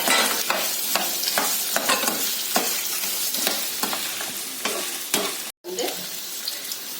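Onions sautéing in a pan, crackling sizzle with repeated spatula scrapes and clicks at an uneven rhythm, close and continuous apart from one brief dropout.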